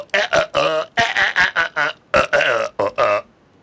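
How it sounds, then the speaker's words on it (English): A recorded burp played back on an early digital sampler, repeated in a quick rhythmic run of short burp bursts, loud and close with no talk. "you record a burp and it'll play"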